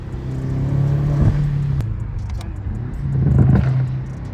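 A car engine revs loudly twice, rising and falling with stock exhaust pops and a rough, burbling rumble between the pulls, close by with no voices.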